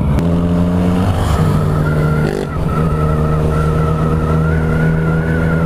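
Race cars roar around a circuit track, loud and close. Several engines drone at sustained pitch and one note shifts and rises, with no talk over the din.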